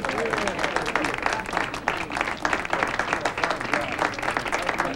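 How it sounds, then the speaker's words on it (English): An audience claps steadily for a priest at a charity wine auction event, dense applause filling the room at moderate loudness with faint voices mixed underneath. "let's have a big round of applause for Father O'Brien and his most worthy cause"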